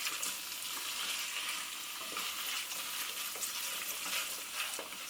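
Warm orzo pasta salad with sun-dried tomatoes, peppers and baby artichokes is stirred in a pan over low heat, with a steady close sizzle and scraping, clattering spoon strokes throughout and no voices.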